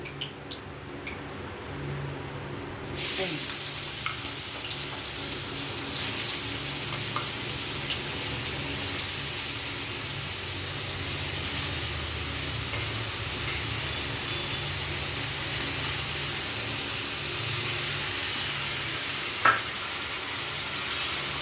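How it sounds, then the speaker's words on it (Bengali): Sliced potatoes hit hot oil in a pan and burst into a loud, continuous sizzle that holds steady and close, with a few faint stirring clicks and no talking. "আলু ভাজাটা এখন ভাজবো। তেলটা গরম হয়ে গেছে।"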